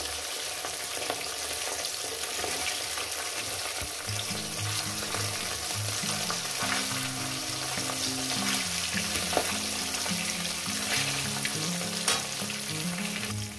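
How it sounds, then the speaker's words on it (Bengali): Fish fry in hot oil with a steady, crackling sizzle throughout, close and even, broken by a few faint clinks and pops, with no talking. "মাছগুলো আমি ভেজে নিয়েছি"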